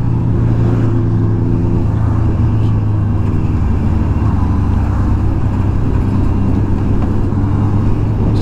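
A 2022 Honda CB650R is being ridden, with a steady, loud engine drone and road rumble that run without a break. No voices are heard.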